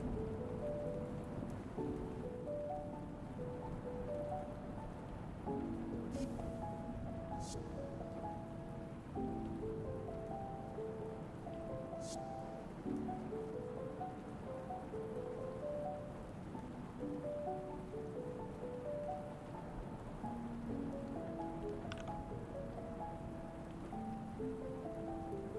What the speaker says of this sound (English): We do have rain, it's just not very loud